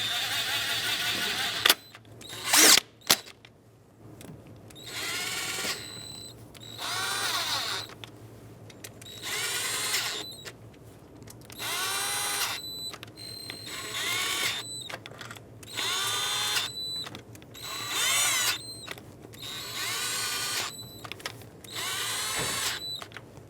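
Power tool driving valve cover bolts on a 2008-2020 Dodge Grand Caravan 3.6L, in about ten short whirring bursts at a steady rhythm, close and fairly loud, with brief pauses between bolts.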